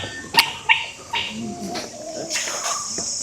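A tracking dog working a scent trail with its handler in Thrissur: a few sharp yips and short barks, with bird calls and light outdoor ambience and brief faint voices.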